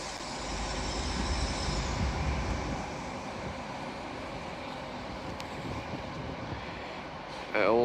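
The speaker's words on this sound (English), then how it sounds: "Off goes the Pendolino bound for Glasgow Central from London Euston." A Pendolino train on the West Coast Main Line at Carlisle pulls away bound for Glasgow Central from London Euston, a steady low rumble and rolling rail noise that swells early then holds, with a brief louder burst at the end.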